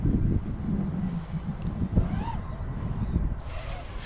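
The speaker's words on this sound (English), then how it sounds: "There is a little bit of wind." Wind blowing across an open dike during a small FPV drone maiden flight, a loud, rumbling buffet of gusts on the microphone with a faint distant motor whine.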